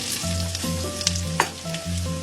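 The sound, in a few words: onion frying in a pan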